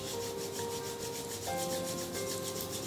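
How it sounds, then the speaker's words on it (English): Two palms are rubbed briskly together during a yoga eye-care routine, giving a steady, rhythmic swishing friction, close and moderately soft, with a faint tonal hum underneath and no talking. "Rub your palms."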